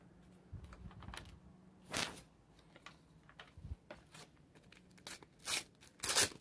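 A packet of Panini Euro 2021 base stickers is torn and opened, giving scattered crinkling and ripping bursts that grow louder and denser toward the end, close by with no talking.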